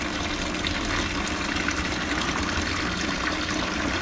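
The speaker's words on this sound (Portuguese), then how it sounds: "Aí já completo com a água da torneira e a água tá vindo fria." Cold tap water pours steadily into an aquarium, a loud, continuous gushing and splashing with no break and no talk.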